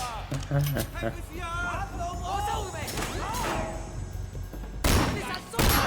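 Shotgun fire in the video game Sleeping Dogs, a handful of loud broadband blasts, the heaviest near the end, over game music and shouted voices.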